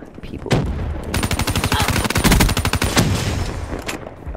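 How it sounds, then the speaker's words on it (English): Rapid sustained bursts of light machine gun fire in Call of Duty: Black Ops III multiplayer, loud and continuous with dense regular shots through most of the clip. "Yeah, it's an LMG."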